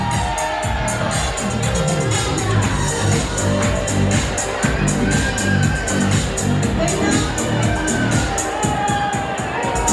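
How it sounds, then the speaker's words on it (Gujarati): A large crowd at a Gujarati-medium school reunion event claps in a quick, rhythmic pattern. Cheering, whoops and excited children's shouts mix in, and the sound stays loud and continuous throughout. "તાળીઓનો ગડગડાટ સતત થવો જોઈએ."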